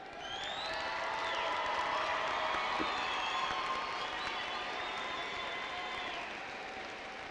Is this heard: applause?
yes